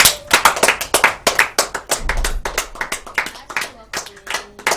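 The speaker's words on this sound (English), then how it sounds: "Let's just give her a hand of applause." An audience claps for an arriving guest on a show, a dense run of sharp hand claps with uneven rhythm, close and loud, with voices over parts of it.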